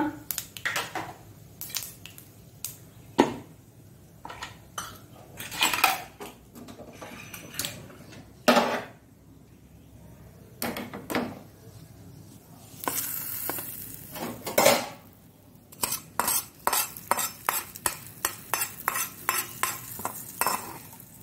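Metal utensils clink, scrape and tap against vessels while chutney tempering is transferred from one pot to another, with sharp intermittent knocks and a faint sizzle in a home kitchen.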